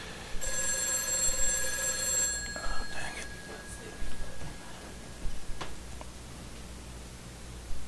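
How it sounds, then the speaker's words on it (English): A telephone rings with a bright electronic trill for about two seconds, then stops, leaving faint room noise and occasional small knocks and clicks. "I probably heard the phone there"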